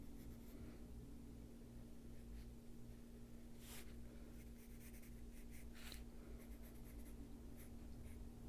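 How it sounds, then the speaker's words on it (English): Chromaflow colored pencil traces lines on paper with faint scratchy strokes in short bursts, quiet and close under a steady low hum. "we're gonna just trace right over them"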